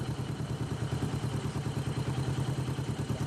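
A 2021 Kawasaki Vulcan S 650 motorcycle engine runs close by with a steady, rhythmic low-pitched thrum, warming up without any talking.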